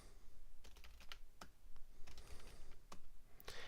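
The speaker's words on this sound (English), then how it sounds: "Now I'm going to type in some gibberish" Rapid, irregular keystrokes of gibberish tapped on a Mac keyboard, close and fairly quiet, with bursts of clicks and brief pauses, no voices.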